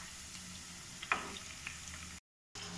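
Marinated chicken pieces fry in a pan over high flame, a quiet continuous sizzle with a couple of small pops and ticks, briefly cut to silence near the end, no voices.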